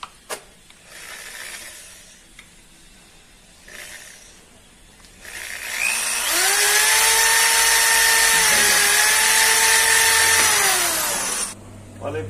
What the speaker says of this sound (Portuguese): eu vou fazer a utilização dessa broca